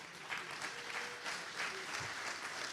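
An audience at a Crossroads 60th anniversary recovery gathering in Phoenix breaks into sustained applause, a dense, even wash of clapping from many hands that carries on without pause.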